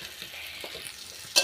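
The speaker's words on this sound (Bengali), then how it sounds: "নাড়াবো।" Cabbage with sugar being stirred in a hot pan, a soft continuous sizzle with a sharp scrape of the utensil at the end.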